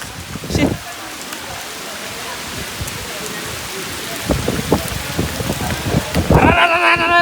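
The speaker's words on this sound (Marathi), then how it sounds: "बेकार पाऊस आला" Steady rain pours down at night in a constant hiss in Ratnagiri, Konkan, with a person's voice breaking in briefly near the start and again toward the end.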